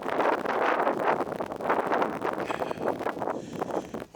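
Wind gusts buffet the microphone outdoors at an old 1936 bridge over Otter Creek on a chilly morning, a loud, rough rumble that rises and falls in uneven surges without any talk.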